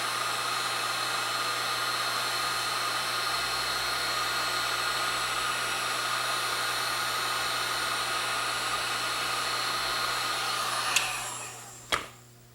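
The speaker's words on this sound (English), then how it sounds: "use the heat gun to shrink it down" A heat gun blows a steady, loud, whooshing hiss while shrinking heat shrink tubing over the leads of a 42 watt CFL bulb under repair, then clicks off and winds down near the end.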